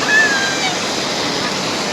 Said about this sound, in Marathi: नदीवर मस्त पाणी आहे.